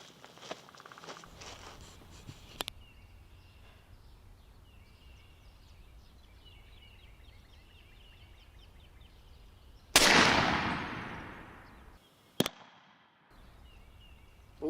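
A .50 caliber Hammer carbine rifle fires at a 70-yard range: one loud, sharp outdoor blast with a decaying tail, then a short second crack, over quiet background hiss and no voices.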